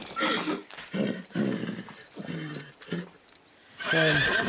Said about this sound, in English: Oh, we killed the horse.